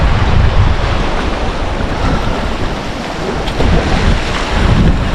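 Roaring surf at high tide under strong monsoon wind, a dense continuous wash of waves with heavy wind buffeting the microphone, loud and steady throughout.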